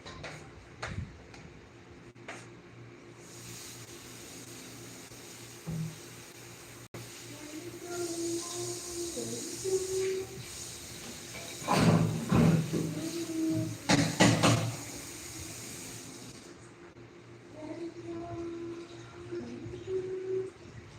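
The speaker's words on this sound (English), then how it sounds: "So I'm gonna rinse this just in case there might be something in it." Running tap water rinses food in a home kitchen during party prep, a soft steady hiss that swells for about ten seconds in the middle, with small clinks and knocks around it.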